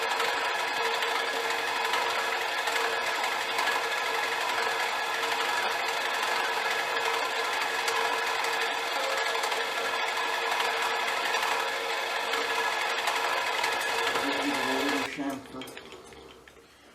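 Eureka gear cutter continuous relieving tool spinning, a steady loud mechanical whir and rattle running for about fifteen seconds before winding down and fading out.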